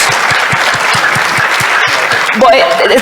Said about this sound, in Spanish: démosle por favor un aplauso